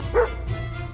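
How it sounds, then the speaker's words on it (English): A cartoon guard dog gives a single short, sharp bark up close, followed by a quiet steady background. "Oh no! They have a guard dog!"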